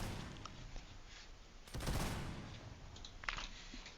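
Musket fire crackles through a Napoleonic battle in a video game, faint and distant, with a brief ragged volley midway and a few scattered shots around it. No one speaks.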